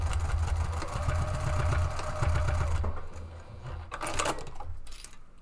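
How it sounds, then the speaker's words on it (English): A sewing machine top stitching a fabric planner cover runs in a steady, close rapid needle rhythm, then slows and pauses, followed by a few short clicks and handling sounds. "I'm gonna top stitch real quick and lock that fob into the end of that"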